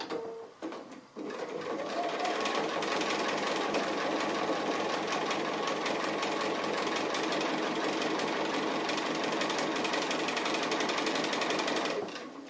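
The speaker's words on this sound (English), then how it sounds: "I'm going to start on his nose where the mouth comes out from, but I'm going to go around the nose first" Sewing machine running continuously while stitching around an appliqué nose, a steady rapid mechanical whirr after a short start, close and loud.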